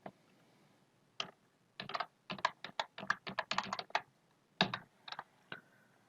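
Typing on a computer keyboard in a quiet room: irregular bursts of crisp key clicks, some rapid runs and a few single presses with pauses between, close and fairly soft, with no one speaking.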